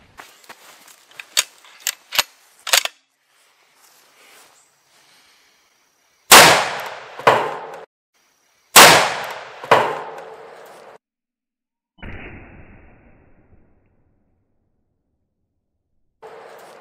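Remington 700 CP rifle shots hitting a spaghetti squash: a few loud, sharp cracks, each trailing a brief rumble, with quiet gaps between. Softer snaps and a faint hiss are heard early.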